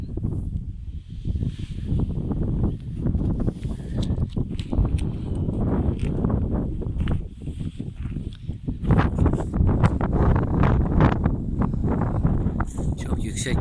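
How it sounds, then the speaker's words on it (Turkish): Strong gusty wind buffets and roars close by at a high, exposed bauxite site, rumbling continuously with irregular crackling bursts throughout. "Çok aşırı rüzgar var."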